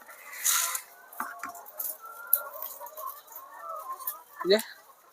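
Layer hens in a poultry farm unit make scattered soft clucks and short squawks, fairly close, over a quiet background, with a person talking.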